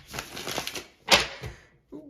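A tarot deck is shuffled in a quick flurry of riffling card flicks, then one loud, sharp snap of cards and a brief trailing rustle, fairly close.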